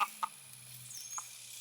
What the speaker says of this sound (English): this is my Moran rooster,